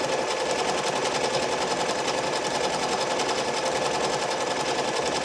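An embroidery machine stitching a left chest logo, a steady loud rapid mechanical whir and needle chatter running continuously and evenly throughout.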